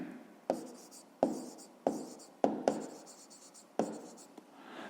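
Pen handwriting on paper while solving a fifth-grade math exercise: a close, scratchy series of about six quick writing strokes, each starting with a soft tap and trailing off, with no talking.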